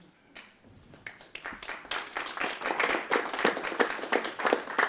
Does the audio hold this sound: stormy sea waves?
no